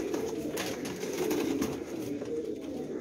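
Pigeons cooing steadily through the clip at a pet market, a continuous low murmur of several birds close by with no talk over it.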